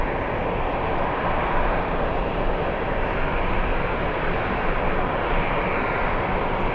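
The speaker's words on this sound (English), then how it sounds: "Heavy coming in. We have the Spanish. We have Iberia. It's an A350" An Iberia Airbus A350-900 heavy jet arrives at JFK, a steady broadband engine roar that holds loud and even throughout with no voices.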